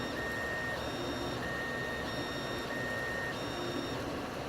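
A Solidoodle 3D printer fills in the base of a box, with steady motor whirring and repeated high stepper tones that rise and fall in a regular pattern, close and continuous.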